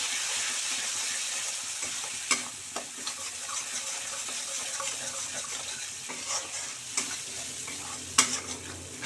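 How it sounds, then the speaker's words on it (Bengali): Turmeric and Kashmiri chili powder fry in a pan with a steady close sizzle, broken by occasional sharp scrapes and taps of a stirring spoon. "মশলাটা এবার ভালো করে কষে নিতে হবে"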